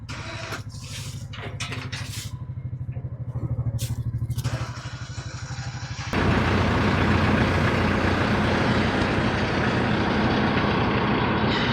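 A tractor engine running in the woods at an off-grid cabin, idling with a steady rumble and then revving up abruptly into a louder, sustained drone as it pulls forward.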